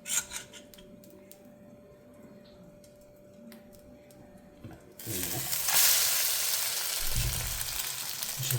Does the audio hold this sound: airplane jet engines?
no